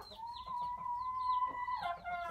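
Backyard flock of chickens with a couple of roosters, clucking and calling in short close squawks, one hen holding a long drawn-out note through the middle.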